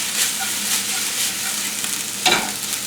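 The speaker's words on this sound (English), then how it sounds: "so we're just letting those saute" Zucchini noodles sauteing in a pan make a continuous close sizzle with a brief stir or toss near the end, with no talk.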